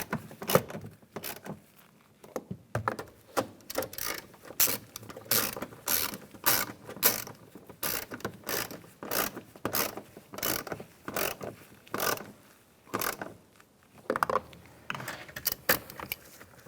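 A ratcheting tool tightens screws on the interior door handle of a 2007-2013 Chevrolet Silverado, making quick clicking bursts in a steady rhythm, heard close up and with no talking.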